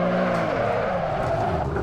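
A BMW M3 E92 engine in a hill climb video game revs and accelerates, its pitch sweeping upward in a smooth, loud whine that stays steady and close.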